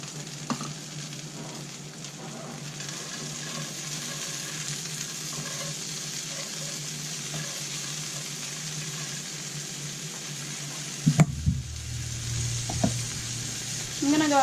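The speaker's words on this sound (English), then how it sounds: "my oil's heated up in my pan, so I'm going to throw in our mushrooms and our peas" Mushrooms and peas sizzling in heated oil in a pan for a vegan pasta carbonara, a steady close hiss of frying that runs throughout with a few brief clatters near the end.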